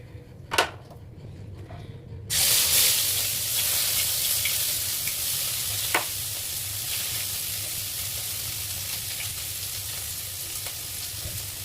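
A bay leaf dropped into hot oil for chicken curry sets off a sudden loud sizzle that settles into a steady frying hiss with faint stirring clicks, alone and close throughout.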